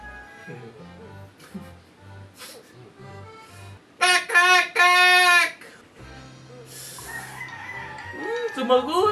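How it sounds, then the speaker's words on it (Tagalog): A rooster crows loudly in two long bursts close by, with quieter clucking and household noise around it. "Yung manok na yun na naman yung manok."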